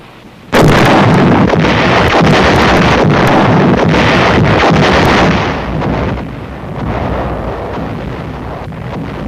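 Heavy artillery fire in a World War II mountain battle, a sudden loud roar of booming shells and rumbling blasts that continues almost without pause, softening slightly toward the end.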